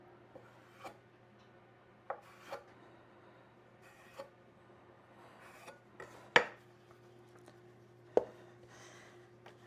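A blade or scraper cuts down the middle of floured rustic Italian bread dough on a work surface, producing scattered soft scrapes and a few sharper knocks over a low steady hum, with no talking.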